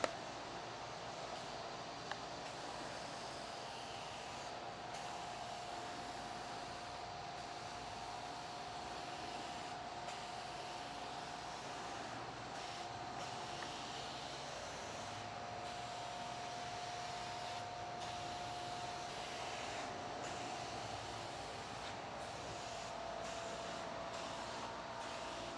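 An aerosol can of auto-parts-store spray paint hisses steadily onto a car fender, a fairly faint continuous spray broken by a few very short pauses.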